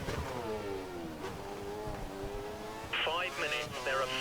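An F1 car engine in the racing game F1 2013, on throttle at Australia, drones loudly and steadily with a rising and falling whine beneath continuous talking.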